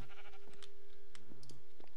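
Sheep bleat in the Minecraft video game, several short nasal calls overlapping with soft clicking and tapping sounds, fairly clear and with no talking.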